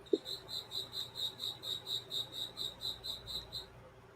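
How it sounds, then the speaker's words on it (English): Crickets chirp indoors in a room, a steady train of about fifteen evenly spaced high pulses, moderately loud and close, with a faint low background hum and no speech. "Literal crickets."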